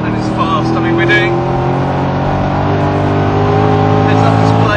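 Sports car lapping a racetrack at speed around 114 mph, engine roaring steadily and close throughout with harmonic drone, while someone talks over it.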